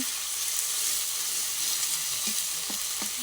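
Taro stolons being sautéed with ground peanut paste in a pan give a steady, close frying sizzle, with a few soft stirring scrapes toward the end.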